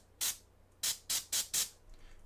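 An airbrush fires five short bursts of paint spray, one alone and then four in a quick even run, each a crisp close hiss against a quiet background.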